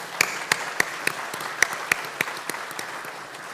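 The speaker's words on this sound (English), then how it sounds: "I would welcome you to give yourself a round of applause because this is a big deal." Graduation ceremony audience applauding at a business school commencement, a loose, thin patter of scattered claps with a few sharper individual hits, fairly faint and steady for a few seconds with no talk.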